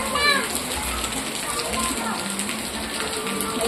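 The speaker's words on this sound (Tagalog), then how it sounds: "Maingay yung ulan." Rain falling loudly and steadily on a surface, a continuous broadband hiss throughout, with children's voices and speech audible beneath it.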